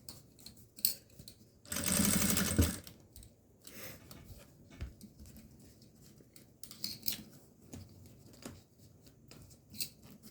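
A sewing machine stitches slowly around a curve on a toiletry bag: a quiet, near whirring burst of a few stitches, then sparse single stitches and light handling clicks between pauses.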